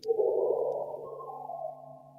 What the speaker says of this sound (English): I made a software synthesizer that scans through the map and generates a sound like this for each sunspot.